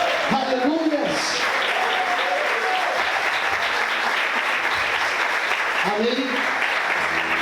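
A church congregation claps steadily in sustained applause after a sermon, a dense, even wash of hands with a voice speaking briefly over the start and end.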